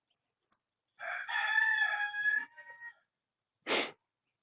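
A rooster crows once, close and clear, a drawn-out call of about two seconds, followed by a short squawk; the garden is otherwise quiet.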